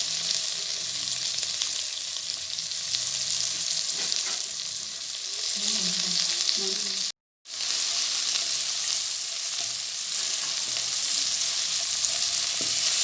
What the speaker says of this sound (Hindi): थोड़ा सा घी डालेंगे इसमें और प्याज डाल देंगे।